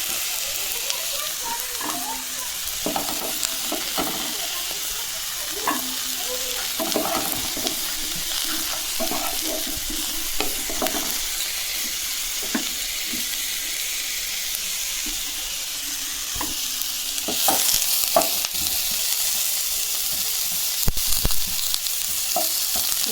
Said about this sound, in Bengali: ফুলকপিটা ভালো করে ভাজা ভাজা করে নেবো